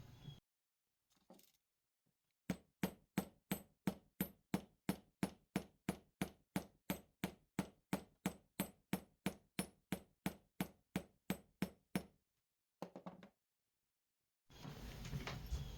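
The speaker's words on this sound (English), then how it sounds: "So now we're gonna hit it with a hammer." A hammer strikes a polymer clay and wire jewelry piece about thirty times in a fast, even rhythm of sharp, close taps. The strikes come after a brief quiet stretch and are followed by faint rustling.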